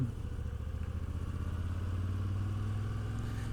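A Moto Guzzi V85TT adventure motorcycle's engine runs at a steady cruise while being ridden, a low, throbbing drone that stays close and constant with no voices.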